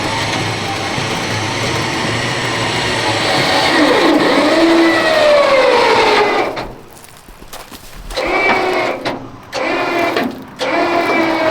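A 1970 Chevy C-40 mechanics truck engine moving a trailer gives a loud, steady, close-up drone that rises in pitch, then drops and breaks into uneven surges near the end.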